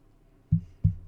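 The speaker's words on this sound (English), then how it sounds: "that was my phone hitting my keyboard at Mach 2." A phone strikes a computer keyboard twice in quick succession, two dull low thuds about a third of a second apart, close and fairly soft.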